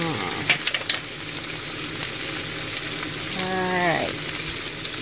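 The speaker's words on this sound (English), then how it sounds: "Sizzling." Chicken and asparagus sizzle steadily in a pan seasoned with salt and pepper, the heat turned to medium; a loud, continuous frying hiss with a few sharp crackles, and a person briefly speaks over it.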